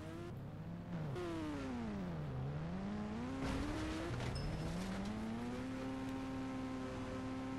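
Motorbike engine in the video game GTA 5, revving up and down in rising and falling sweeps with a brief gap and tire noise in the middle, then climbing into a steady high whine, clear and alone.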